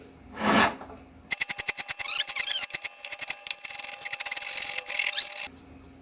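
A tool rasps a small concave recess into the wooden body of a router plane. A rapid run of close rhythmic scraping strokes follows one brief rubbing sound, with no talking.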